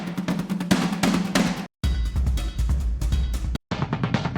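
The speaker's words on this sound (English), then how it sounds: "So really cinematic percussion loops." Rendered cinematic drum loops play, punchy rhythmic hits with booming low thumps and brief hard cuts between three looped sections, loud and dry with no voices.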